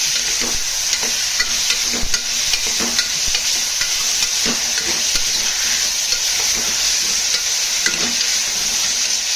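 Tomatoes sautéing in a pan for a nut kurma, a steady close sizzle with repeated scraping stirs of a spatula at an irregular rhythm, no voices.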